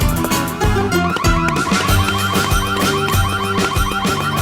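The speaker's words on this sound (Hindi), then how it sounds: "सिक्योरिटी अलार्म है, चोरी हो गई है।" A security alarm blares after a theft, a loud continuous electronic wail with cycling tones that fills the whole stretch without letup and no voices over it.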